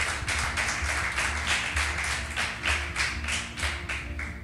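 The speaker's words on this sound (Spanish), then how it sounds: "y le damos un aplauso" A church congregation claps in a steady, fairly even rhythm of sharp hand claps, moderately near, with a low murmur of voices underneath.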